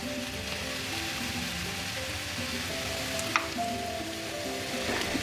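Oil and ghee sizzle steadily and loudly in a pan while cooking veg fried rice, a continuous dense frying hiss with one faint utensil clink partway through.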